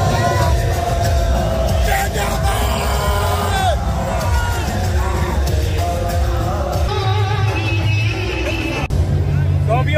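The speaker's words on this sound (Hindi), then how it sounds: "यार बहुत ज्यादा भीड़ है एकदम से जबरदस्त।" A large, dense crowd at the Wagah border, with a loud continuous babble of many voices, scattered whoops and cheers, and a nearby voice talking over it.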